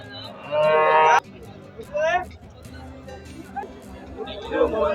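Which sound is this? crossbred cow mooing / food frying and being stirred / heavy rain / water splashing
crossbred cow mooing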